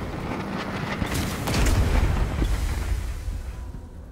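A gas grenade in Wasteland 3 detonates with a loud, broad boom that swells and then trails off into a hissing rumble, heard alone without speech.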